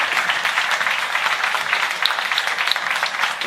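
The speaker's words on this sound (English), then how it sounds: "Let's make a big round of applause to Llew Claasen." A conference crowd at a startup event gives a big round of applause, a dense wash of clapping that stays loud and even for a few seconds.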